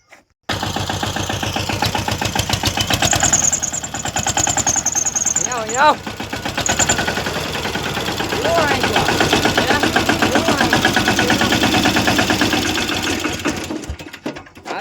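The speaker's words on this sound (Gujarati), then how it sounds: "પા ચાલુ છે ટ્રેક્ટર" A tractor engine chugs steadily and loudly at close range with a rapid, rattling beat, while people talk over it.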